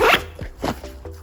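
A zipper pulled along the front zip pocket of a packed bag, several quick close rasping strokes in a row, loud and alone with no talk.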